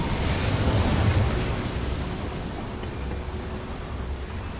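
An Incendio fire spell blasts in the Hogwarts Legacy video game, played in VR, as a broad roaring burst strongest in the first second and then a steady rushing fire-like hiss that fades slightly.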